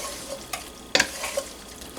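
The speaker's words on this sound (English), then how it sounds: "kind of stir it around until it gets a little thick" Chicken and General Tso sauce are stirred in a hot pan, giving a soft steady sizzle with a few scraping clacks of the utensil, one sharper knock standing out midway.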